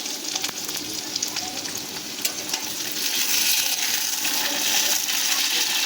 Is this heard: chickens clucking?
no